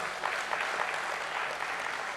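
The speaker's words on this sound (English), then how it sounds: "So let's once again give a round of applause to the entire team." An audience applauds at a stock exchange listing ceremony, steady dense clapping from a crowd in a hall, fairly even throughout and without voices over it.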